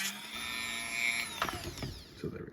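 A small rotary power tool whines steadily as it shaves plastic from an action figure torso, its pitch dipping as the bit bites in, followed by a few light clicks and handling noises, quiet and close.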